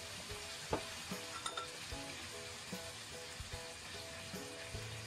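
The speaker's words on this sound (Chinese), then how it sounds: "再快速的翻炒均匀" Long beans being stir-fried in a wok with Sichuan pepper powder, salt, oyster sauce and soy sauce. The sizzle is steady, and the spatula gives scattered scrapes and clinks close up. There is no talking.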